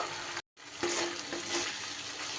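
Tomato and spice masala sautéing in a pan for a vegetarian Bengali dish gives off a steady, close sizzle, with a brief silent gap near the start and then light stirring scrapes over the frying, with no voices.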